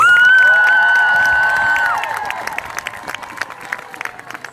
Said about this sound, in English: Can we just have a round of applause for Anna Grace?